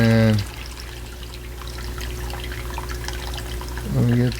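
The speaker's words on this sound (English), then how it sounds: "air bubbles in the python line, so then I know it is done draining" Water drains from a guppy pond through a Python hose in a steady, close, continuous trickling flow, with louder gurgling surges at the start and end.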